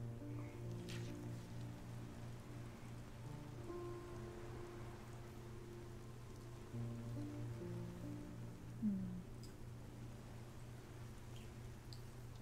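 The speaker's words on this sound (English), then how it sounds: "At least it's a calm rain." Calm rain falls in a video game, a soft steady patter layered over a low sustained tone and faint melodic notes, with one small brief knock near the end and no talking.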